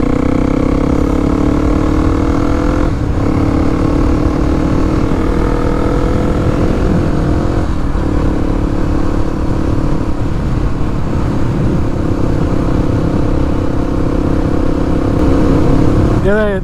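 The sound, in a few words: Kawasaki KLX 300 motorcycle riding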